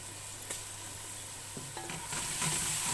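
Garlic paste frying in a pan with browned onions for a mutton korma, a steady close sizzle with a few soft stirring scrapes and taps, no talking.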